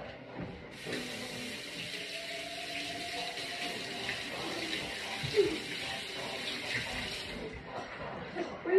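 Water runs steadily from a household tap for several seconds as hands are washed at a sink, a continuous splashing hiss with faint voices and small clatters in the background.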